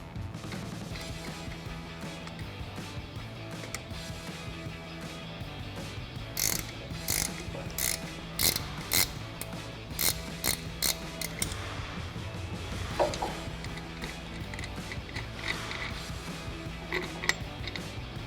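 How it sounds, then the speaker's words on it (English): A 17mm ratchet wrench loosening the nut on a truck shock absorber during a lift kit install, giving bursts of rapid clicking pawl ratchets between quieter stretches, close and clear with no talking. "we've got a 17mm ratchet wrench to go ahead and get this the rest of the way off"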